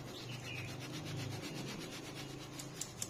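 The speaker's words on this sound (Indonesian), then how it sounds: "Kita ayak supaya halus lagi." Flour being sifted through a sieve as a steady soft rubbing, scratching hiss that continues evenly throughout, close and quiet, with a couple of light taps near the end and no talk.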